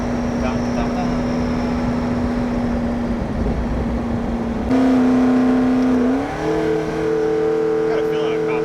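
A McLaren MP4-12C engine hums steadily, then swells louder and shifts pitch as the car revs and passes close by.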